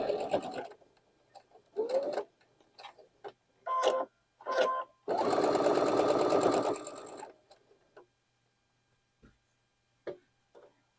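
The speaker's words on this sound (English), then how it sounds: "Sew that down at a 1/4 inch seam." A home sewing machine stitches a quarter-inch seam on a Bear's Paw quilt block, running in short bursts and then one longer steady whir of about two seconds, close and clear against near silence.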